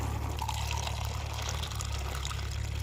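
Water is drawn and poured for drinking, a continuous splashing trickle of liquid running steadily and close by for a few seconds, with no talking.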